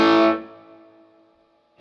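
An electric guitar played through an amp with the treble off and the mids turned fully up gives one loud distorted strummed chord that rings and slowly fades, then a new attack starts at the very end.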